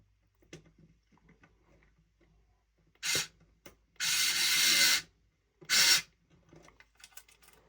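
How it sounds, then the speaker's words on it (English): A power tool drives a 20mm screw to mount the front shock on a snowmobile ski build, giving three loud whirring bursts, short, then about a second long, then short, between quiet clicks and handling noises. "Now I can take a 20mm screw and install this front shock right here."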